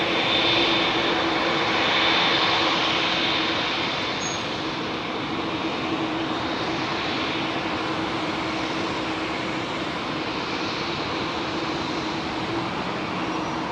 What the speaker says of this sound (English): Very slow march to the front line for this Dreamliner.